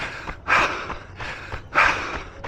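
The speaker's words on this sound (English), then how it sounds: "Listen to that breathing." A runner on a parkrun course breathes hard and close, with rhythmic ragged gasps and exhales at about two heavy pulls per second.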